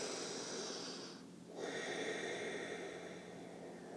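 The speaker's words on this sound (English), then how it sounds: "ujjayi breath is that yogic breath where you're breathing in and out the nose and you have a slight constriction in the back of your throat" Ujjayi yogic breathing, drawn in and out through the nose with the back of the throat slightly constricted, gives a close, airy, oceanic rush: a long exhale, a short pause, then another breath.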